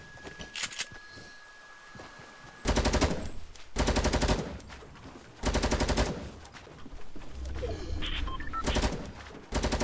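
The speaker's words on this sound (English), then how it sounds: "Keep on shooting at him." Loud bursts of automatic gunfire in a video game fight, several sustained rattling volleys of a second or so each, separated by short pauses and some lighter background game sounds.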